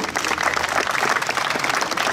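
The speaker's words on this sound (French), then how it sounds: "Je voudrais que vous applaudissiez monsieur Delaplace" At an outdoor centenary commemoration in Vaux-sur-Somme, an assembled crowd gives steady, dense applause for a former mayor; the clapping fills the moment evenly with no talking.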